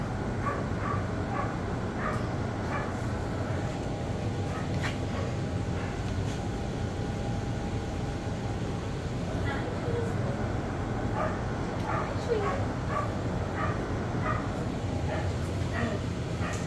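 Five-week-old puppies yip and whimper in short, scattered bursts at close range, with a low steady hum beneath and people talking over them at times.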